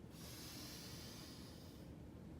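A deep inhaled breath during a seniors' exercise class, a steady close airy rush lasting about two seconds and tapering off near the end, with no talking over it.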